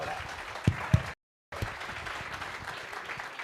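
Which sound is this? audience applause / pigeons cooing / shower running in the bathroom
audience applause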